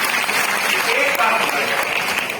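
A Hindi seminar audience claps as a crowd, dense continuous applause rather than one clap, loud and close throughout.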